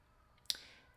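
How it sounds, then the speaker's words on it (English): A single sharp mouse click while navigating a nurse-provider app, brief and close, standing alone against faint background hiss. "I can click back"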